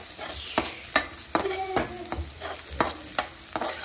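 Chopped onions sautéing in a pan for Rajasthani laal maas, a close sizzle broken by sharp, evenly spaced spatula strikes and scrapes roughly every half second.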